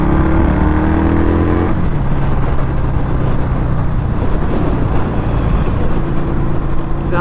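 A 2021 Indian Scout Bobber motorcycle engine pulls hard in third gear near 4,000 RPM, a loud, steady drone with a gear change around two seconds in, close and continuous, with no talk over it.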